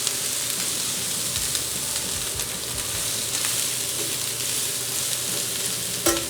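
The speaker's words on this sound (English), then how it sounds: "I'm going to saute those until they get a little bit of color on them, start to wilt out a little bit" Vegetables sauté in a pan on a Vulcan chef station, a loud, steady close sizzle with soft stirring scrapes and one brief clatter near the end.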